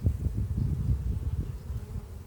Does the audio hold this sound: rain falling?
no